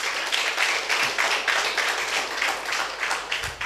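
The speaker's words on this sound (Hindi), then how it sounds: "प्रभु के लिए ताली बजा देना है।" A church congregation claps for the Lord, dense continuous clapping from many hands at a steady, even level throughout, with only faint voices beneath it.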